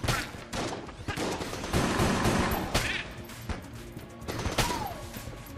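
Rapid bursts of gunfire in the video game Enter the Gungeon, dense and loud, with crackling impacts and occasional whooshes layered over a busy background.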